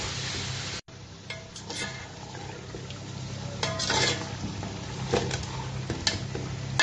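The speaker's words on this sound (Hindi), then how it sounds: "अब गोश्त को जो है मैं 10-15 मिनट अच्छी तरह भूनूंगी मसाले के साथ।" Mutton fries with spices in a pan, giving a low continuous sizzle broken by repeated scraping and stirring strokes, close and fairly loud, with no talking.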